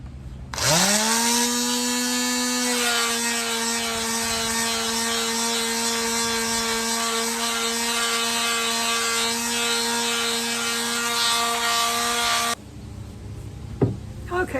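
A power sander runs on a wooden walking staff, spinning up to a loud, steady whine and grinding rasp that holds for about twelve seconds before cutting off, followed by a few light knocks.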